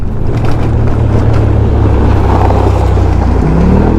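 An ATV engine drones loud and steady through an endurance challenge, a constant low rumble that holds throughout with a slight pitch rise near the end.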